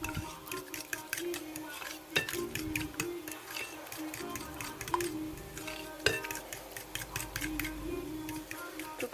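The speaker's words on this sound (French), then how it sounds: "Je mélange le tout." A camembert and potato tart filling is mixed in a bowl, with a steady run of quick clicking and tapping strokes of a utensil against the bowl, close and quiet.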